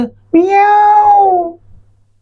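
A cat gives one loud, drawn-out meow lasting about a second, close and clear, with quiet background around it.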